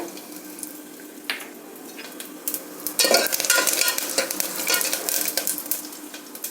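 Crushed garlic, curry leaves, dried chili and cumin are tempered in hot oil in a pan for rasam, starting as a low quiet hiss that bursts into a loud, crackling sizzle with spoon scrapes partway through.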